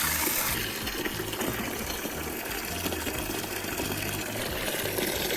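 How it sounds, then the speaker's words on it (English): Water forcing through RV plumbing out of a low point drain during dewinterizing: a steady, loud gushing rush that holds constant for the full stretch, with a faint pump-like rumble underneath. "Basically the water from the house is just forcing through the whole system"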